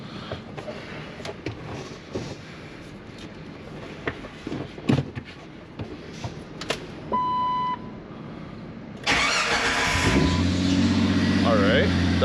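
Jeep TJ engine cranking and catching at around nine seconds, settling into a loud, steady idle after quieter clatter and workshop noise, with a person talking.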